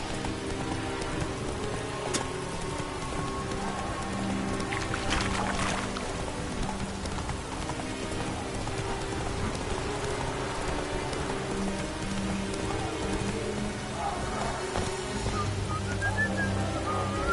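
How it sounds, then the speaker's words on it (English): Rain falling in The Witcher 3, a steady dense patter of drops on surfaces throughout, with faint intermittent game sounds layered beneath and no speech. "Looks like rain."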